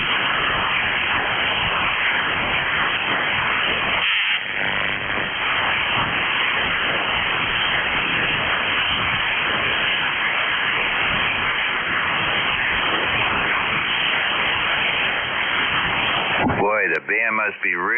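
Dense hiss of static fills an amateur radio band, loud and unbroken for the whole stretch with a voice partly buried in the noise, before it cuts to a brief warbling tone near the end.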